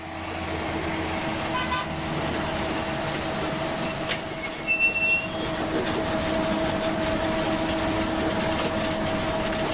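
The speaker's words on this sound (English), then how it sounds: "I hear the Arkham bus pulling up outside" A bus pulls up outside, its engine rumbling steadily with a hiss of air brakes and a short horn toot in the middle, loud and close; no voices.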